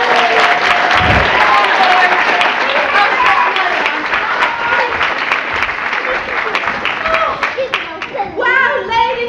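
Theatre crowd at a pantomime applauds loudly and continuously, dense clapping with scattered voices and children mixed in, a performer beginning to talk near the end.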